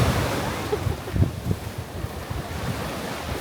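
Steady roar of ocean surf with waves washing in and strong wind buffeting the microphone, loud and continuous.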